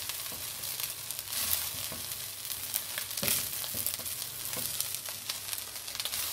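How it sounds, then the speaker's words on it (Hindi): Chicken manchurian tossed in a hot pan with vinegar and soy sauce sizzles and fries steadily, with scraping stir sounds and brief louder bursts as the pieces are turned, close and without talk. "अब इसको अच्छे से हम टॉस कर लेते हैं।"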